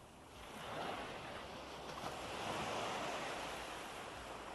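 Continuous wash of sea waves on the seashore, swelling and easing gently with some wind noise, fairly faint and steady with no talking.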